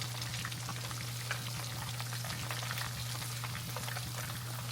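Flounder frying in hot oil, a steady dense sizzle with crackling pops running throughout, close and even, with a low hum underneath and no talking.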